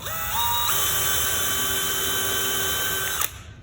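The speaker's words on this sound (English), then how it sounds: "I can hold this flush, drill me a new hole." A power drill bores a new hole through a wooden planter, its motor whine steady and loud for about three seconds, shifting pitch as it bites into the wood, then winding down abruptly.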